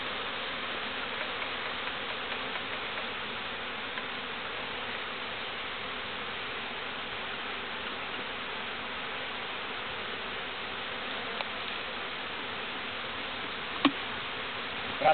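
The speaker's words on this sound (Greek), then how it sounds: "Δεν είναι δυνατόν τόση μέλισσα που βρέθηκε." A large honeybee swarm from a pine tree gives off a steady, dense buzz that holds at an even level throughout, with a couple of faint clicks near the end and no voices.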